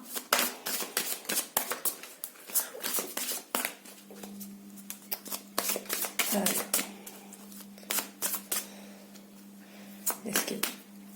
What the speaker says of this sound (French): Allez, je mélange avec vous, comme ça on va voir quelle carte il y aura.